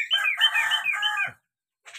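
Close chicken calls: a drawn-out, crowing cluck for about a second, then a brief pause and another short burst of clucking.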